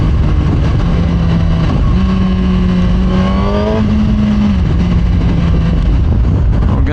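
A 2023 Suzuki GSX-R 1000 engine revs hard while riding, its loud note stepping up through rising pitch sweeps and then dropping on a downshift over steady wind noise.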